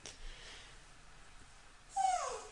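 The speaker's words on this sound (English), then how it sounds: "Oh, that's my puppy." A puppy whimpers in a short, high, falling whine near the end, after quieter faint whining earlier, with no voices in between.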